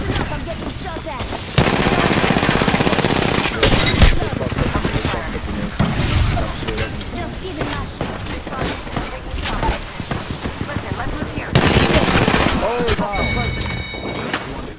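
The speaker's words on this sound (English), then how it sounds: "Enough, I'm getting shot at." Enemy gunfire in Apex Legends, with rapid automatic bursts and sharp shots crackling loud and close in repeated volleys, mixed with game effects and a voice talking over parts of it.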